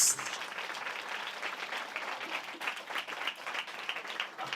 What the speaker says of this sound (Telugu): Give me claps to Jesus.